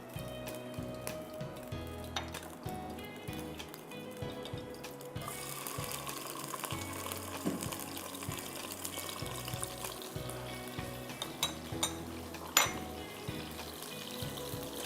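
Chopped garlic fries in pomace olive oil in a pan, giving a soft, steady sizzle and crackle with occasional sharper pops. It stays fairly quiet throughout.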